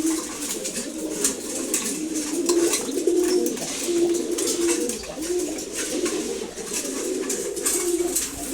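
Feeding pigeons keep up a nearby chorus of throaty coos, individual rolling calls rising from the steady flock murmur, with intermittent pecking clicks throughout.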